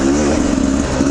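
Enduro motorcycle riding off in the sand of the Little Desert in Australia, a brief close engine drone rising slightly as it accelerates, steady and fairly loud over a second.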